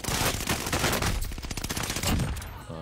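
Rapid automatic gunfire in a fast-paced online shooter video game, dense crackling bursts of shots rattling loudly and continuously for a few seconds.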